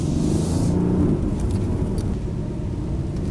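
A 2019 Mercedes-AMG GLC 63 Coupe engine accelerating with a steady, loud low rumble, heard from inside the vehicle without any talking.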